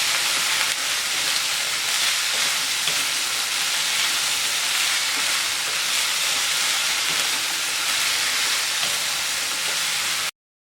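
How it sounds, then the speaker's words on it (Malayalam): Brinjal sautéing in a hot pan with onion and green chilli, a loud continuous sizzle and hiss holding steady throughout before cutting off at the end. "വഴുതനങ്ങ ചേർത്ത് ഒരു 5-6 മിനിറ്റ് ഒന്ന് നന്നായിട്ട് വഴറ്റി കൊടുക്കണം"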